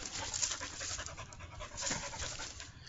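A hyperactive puppy pants rapidly and steadily close by outdoors on a mowed lawn, the quick breaths continuing throughout with no talking.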